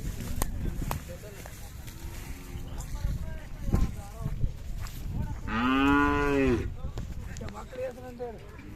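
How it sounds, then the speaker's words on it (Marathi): A Khillar cow gives one long, loud moo amid a busy outdoor crowd at the Umadi cattle fair, with people talking throughout. "अशा प्रकारची खिल्लार आहेत गाय"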